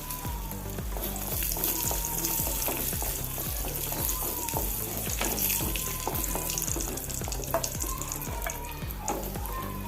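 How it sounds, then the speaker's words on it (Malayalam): Cashews and raisins fry in ghee in a pan, a steady loud sizzle with rhythmic scraping and stirring strokes running throughout, with no talking. "ചീഞ്ചട്ടിയിൽ കുറച്ച് നെയ്യ് ഒഴിച്ച് കൊടുത്ത് ഇനി അണ്ടിപ്പരിപ്പും മുന്തിരിങ്ങയും കൂടി വറുത്തെടുക്കാം"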